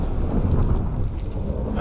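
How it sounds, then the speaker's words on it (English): A thunderstorm with heavy rain in The Witcher 3: Wild Hunt, heard aboard a boat, steady loud rushing rain and low rumbling for a couple of seconds with no break. "Didn't bargain for no storm."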